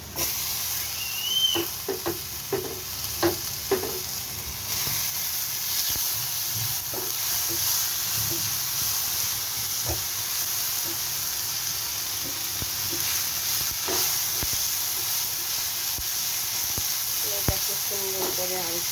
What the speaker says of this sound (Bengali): আমি এটাকে সুন্দর করে ভেজে নেব দিয়ে দিব টমেটো কুচি